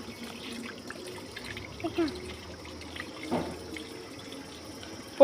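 Tap water runs faintly as cut fruit is washed at a sink, a low steady trickle with a few small splashes, while voices talk nearby.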